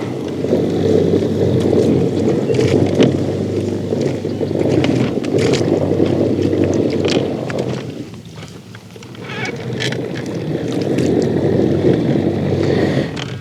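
An outboard motor on a fishing boat on Lake Toho drones steadily and loudly through thick vegetation, with wind buffeting the microphone and a brief dip in the engine noise partway through.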